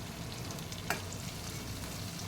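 Curry leaves drop into hot oil in a pan while Tamil poori masala cooks, giving a steady broadband sizzle throughout with a brief sharper crackle burst near the start, close and moderately loud.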